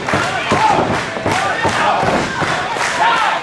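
A crowd at a live independent wrestling event cheers and roars loudly, with rhythmic thuds and a commentator talking over the noise.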